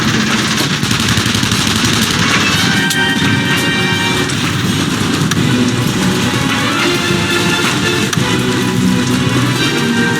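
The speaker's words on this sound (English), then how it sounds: "They're shooting at me!" Dense, continuous gunfire in the open-world game The Saboteur, loud overlapping shots and bursts mixed with crashes and engine noise, sustained throughout with no pause.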